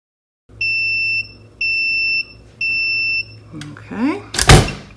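A tumbler press timer gives three evenly spaced, piercing electronic beeps near the end of its countdown, followed by clunks and rustling handling noises.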